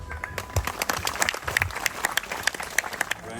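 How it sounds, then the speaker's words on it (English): Audience applause at a Brangus cattle show in Spanish Lookout, Belize, a steady crowd clapping with dense, continuous claps held throughout, fairly close and loud. "let's give them a round of applause on a job well done"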